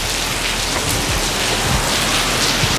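Heavy rain pouring steadily in Singapore, a dense, loud hiss of drops hitting surfaces, continuous and close with no voices.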